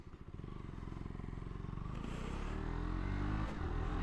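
KTM Duke 125 motorcycle exhaust heard from the rider's helmet with the visor slightly open, a steady buzzing engine note with rhythmic pulsing that climbs gradually in pitch under strong wind rumble, close and loud throughout.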